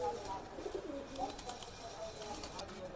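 A pair of pigeons, a male and a female, coo softly and steadily close by at a pigeon market, with faint background noise and no clear speech.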